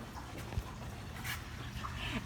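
A dog whimpers and whines softly in a noisy household, brief high whines rising over a steady low background rumble, with faint voices nearby.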